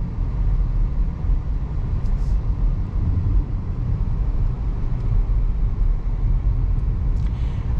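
A heavy 2024 Audi A8 L on air suspension rolls through corners, giving a steady low interior rumble of road and engine noise that stays even and unbroken throughout.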